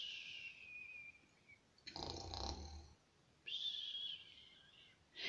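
A voice imitates snoring with a single rough, rumbling snore, set between stretches of high, whistly sounds.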